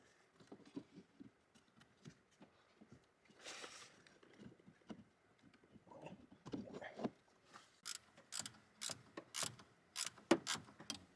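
Ratchet wrench clicking on a bolt during brake work on a 1998 GMC K3500 dually pickup, a quick run of sharp, close clicks in bursts in the second half, alone with no talk.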